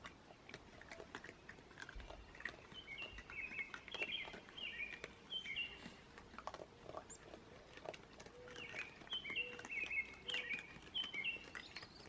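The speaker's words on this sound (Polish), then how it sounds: "ptaszki ładnie śpiewają" Small birds singing on an early Sunday morning outdoors, repeated high chirping phrases at a distance, faint and quiet against a soft background with occasional small clicks and rustles.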